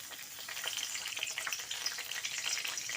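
Dried red chilli and bay leaf fry in hot oil with a continuous close crackling sizzle, soft and even throughout, with no talking.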